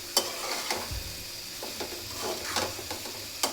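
A thick curry with tomato sauce stir-fried in a pan, spatula scrapes and knocks landing in an uneven rhythm over a low, steady sizzle, heard close with no talking.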